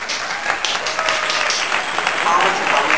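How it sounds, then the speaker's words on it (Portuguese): Steady, dense applause from many hands plays continuously at full volume, with a voice talking over it. "Eu quero ouvir palmas."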